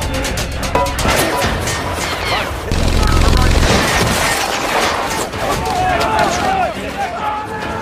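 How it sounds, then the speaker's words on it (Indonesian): Machine-gun and anti-tank gunfire from German positions in a war documentary: dense, continuous bursts and heavy crashing impacts throughout, loud and close, with a thicker rumbling stretch midway. "tembakan senapan mesin dan anti-tank dilepaskan oleh pihak Jerman"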